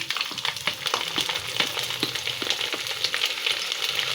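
Chopped garlic dropped into hot oil for a papaya pickle, frying with a dense, continuous crackling sizzle and occasional stirring scrapes, close up and steady throughout, with no voices.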